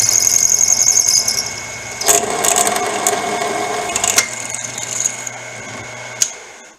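A power drill with a dull bit bores with a steady, close, whining drone for several seconds. A harsher burst comes near the middle, then the drill winds down and stops with a final clack.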